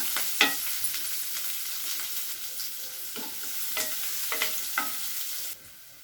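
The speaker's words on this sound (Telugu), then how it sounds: "వేగిన తర్వాత ఉల్లిపాయ ముక్కలు పచ్చిమిర్చి అల్లం పేస్టు వేసానండి వేసుకొని ఒకసారి కలుపుకోండి" Onion pieces with green chili and ginger paste fry in a pan for a ridge gourd and sesame curry, giving a steady bright sizzle broken by several sharp scraping stirs, close and fairly loud, with no voices.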